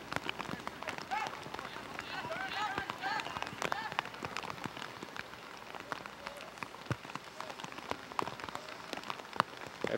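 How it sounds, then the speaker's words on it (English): Steady rain patters down on a hard surface at an outdoor men's college soccer final, a dense crackling wash with scattered sharper drops and faint voices in the distance. "Rain's starting to pick up a little bit."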